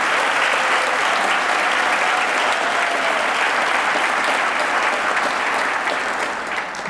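Loud, continuous applause from a school ceremony audience for sophomore academic achievers, dense clapping and crowd noise sustained for several seconds without a break.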